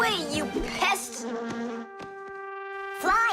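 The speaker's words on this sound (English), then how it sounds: "It's just a plain old bee!" A cartoon bee buzzes in short, rising and falling whines between character voices and music in a children's animated show.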